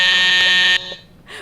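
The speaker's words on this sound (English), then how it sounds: "where's that buzzer?" A loud, steady electronic studio buzzer blares on a live show for under a second, then cuts off abruptly into near silence.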